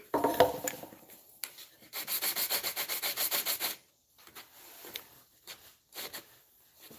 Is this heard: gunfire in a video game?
no